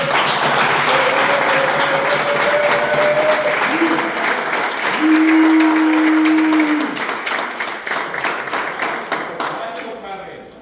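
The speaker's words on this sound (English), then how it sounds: "can you please give a big round of applause for your parents?" Sustained audience applause at a blues championship, a dense wash of many hands clapping that stays loud, then thins into scattered individual claps near the end, with a few held voice-like tones rising above it.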